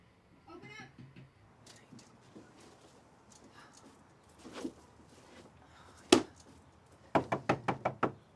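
Knuckles rap on an apartment door, a single sharp knock followed by a quick run of six loud, evenly spaced knocks near the end, with a voice calling out earlier.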